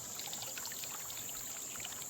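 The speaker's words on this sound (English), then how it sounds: "I'm gonna pick it straight up like this. Slowly let the water drain out." Water draining and trickling out of a gold sluice box mat as it is lifted during a cleanout, a steady close pouring and dribbling hiss with no talk.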